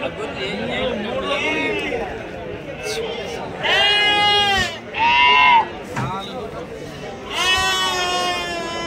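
Sheep and goats bleating at a Saturday livestock market in Angallu, several loud close bleats rising above a busy crowd chatter and people talking throughout.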